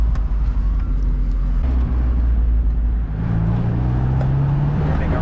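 Inside a Mazda Miata driving on a town road, a low engine drone and road rumble hold steady, with a rising tone after a brief dip midway as the car accelerates.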